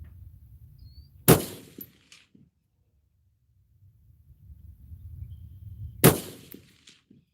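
Two sharp, loud rifle shots firing solid copper 62 grain ammunition at an outdoor zeroing session, several seconds apart, each followed by a brief ringing decay against low wind rumble.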